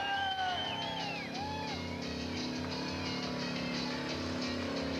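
Holden VK car doing a burnout at a 1998 club event, engine roaring continuously at a distance with crowd noise, yells and music layered over it.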